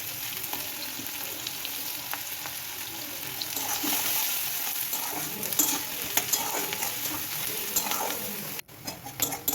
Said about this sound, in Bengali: পেঁয়াজ কুচি দিয়ে এটা আমি ভালো করে পেঁয়াজ কুচিটাকে ভেজে নেব